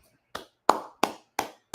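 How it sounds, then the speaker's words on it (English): A few hands clap in a slow, evenly spaced rhythm, five distinct sharp claps close by with short gaps and no voices. "we're going to go ahead and clap it up"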